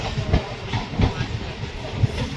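A passenger train runs from Kolkata toward Guwahati, with a steady rumble, rhythmic wheel clacks and a hissing rush heard from inside the carriage.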